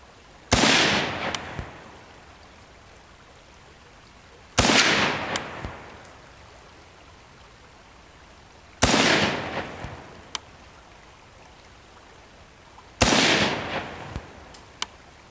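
Four sharp, loud rifle shots from a Ruger M-14 chambered in 5.56 NATO, fired at cans by a creek outdoors, evenly spaced several seconds apart, each with a ringing echo that trails off.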